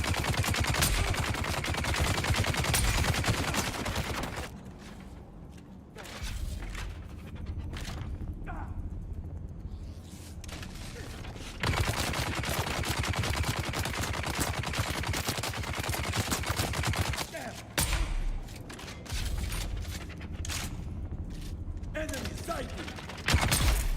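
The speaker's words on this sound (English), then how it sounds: "There's just a guy right here with a minigun." Heavy sustained minigun fire in a video game blasts in long loud bursts, broken by short gaps with lighter mechanical clatter before the roaring volleys resume.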